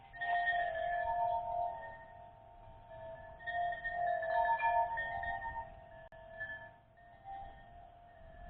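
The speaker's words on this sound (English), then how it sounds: "Excuse the wind chimes, they're very pretty" Wind chimes tinkle softly in gentle, overlapping ringing tones, swelling and fading a few times against a quiet background.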